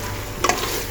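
Chicken frying in a pan for an Assamese home recipe, with one quick stirring scrape over a low, steady sizzle.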